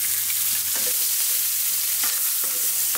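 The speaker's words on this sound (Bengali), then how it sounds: "এখন এই তেলেই আমার কেটে রাখা পেঁয়াজ, কাঁচামরিচ" Chopped onions and green chilies fry in hot oil, a loud continuous close sizzle with occasional stirring scrapes, no talking.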